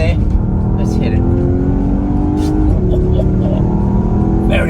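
Porsche Panamera Sport Turismo Turbo accelerating hard from inside the cabin, the engine note rising steadily through the revs with a loud, continuous drone and brief higher bursts.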